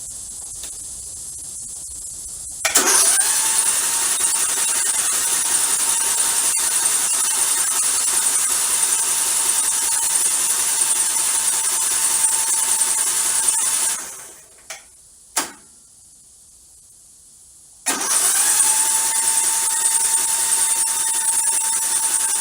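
An Ariens Zoom 34 mower engine cranks with its spark plug removed, giving a steady, loud whirring drone with a high hiss for about eleven seconds, then a brief pause and drop-off before the cranking drone resumes.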